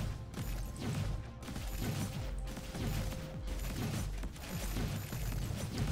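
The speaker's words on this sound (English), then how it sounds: "Big explosion on those now." Repeated explosions from upgraded mech weapons in the bullet-heaven game Time Treker, with a wide scatter range. The blasts form a dense, continuous low rumble of overlapping bursts with no speech.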